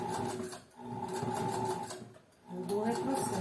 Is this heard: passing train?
no